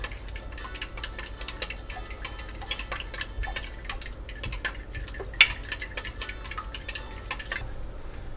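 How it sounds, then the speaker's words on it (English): Eggs beaten in a bowl give off quick, fairly regular light ticks and clicks of a utensil against the sides, faint and close, with one sharper knock partway through. "got these eggs, beating them up for when the plants are done browning"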